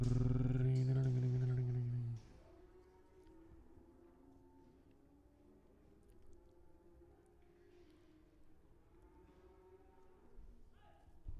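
At a cattle auction, a cow lets out a loud, close moo lasting about two seconds, then the barn settles into quieter low rumbling and faint background voices.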